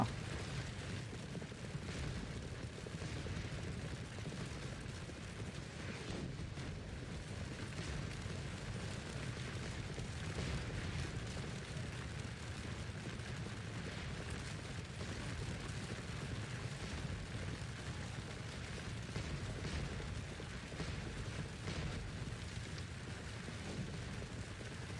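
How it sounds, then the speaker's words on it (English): Cannon artillery battery fire in the Napoleonic Waterloo battle game Scourge of War rumbles as dense, distant booms layered over a constant battlefield roar, with no clear single shot standing out. "Nice use of cannons on the right flank by the AI, and that's good cannon battery."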